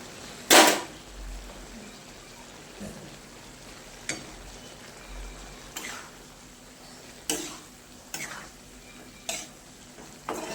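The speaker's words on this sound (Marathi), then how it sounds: "असं हलवायचं कोथिंबीर टाकून." A spoon stirs and scrapes around a cooking pot just after fresh coriander goes in, giving one loud clank followed by a series of irregular, fairly close scrapes and knocks over a faint steady sizzle, with no talking.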